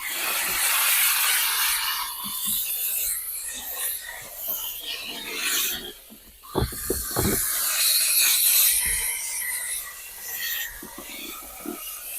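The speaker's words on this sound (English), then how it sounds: "the vapor steam loosens it up" A vapor steam cleaner hisses in bursts against a dirty car steering wheel, a close, loud spray sound with brief rubbing noises and gaps between passes.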